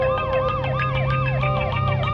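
A police car siren wails behind, cycling rapidly up and down in a loud, steady, repeating sweep with a low engine rumble beneath it.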